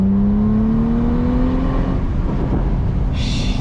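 A Bentley Continental GT W12 with the top down accelerates hard, its engine note climbing steadily in a loud, close roar over heavy wind rush, then settling into a broad rumble.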